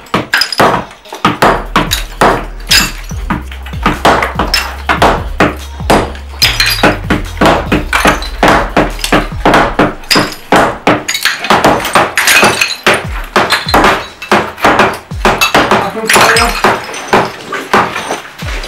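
Rapid, steady hammer blows strike repeatedly throughout during an attic conversion, sharp metallic-sounding knocks close by with a low hum underneath.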